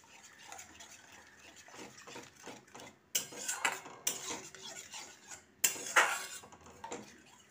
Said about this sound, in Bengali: দইটা দিয়ে খুব ভালোভাবে নাড়তে থাকলাম।